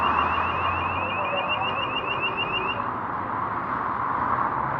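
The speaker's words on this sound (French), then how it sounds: "Je sais pas pourquoi elles sonnent ces alarmes maintenant que..." Alarms at a motorway toll booth ring with a steady, rapid electronic warble that repeats, then stops partway through, over constant traffic and wind noise.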